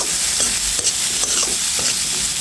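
Ground cumin and coriander powder stir-fry in a hot pan for a hilsa curry with bottle gourd greens, a steady close sizzle broken by soft scraping stirs, with no voices.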